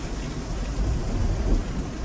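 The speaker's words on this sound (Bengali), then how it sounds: "আবার বৃষ্টি শুরু হয়ে গেছে।" Heavy rain pours steadily with a deep rolling rumble of thunder underneath, dense and continuous throughout.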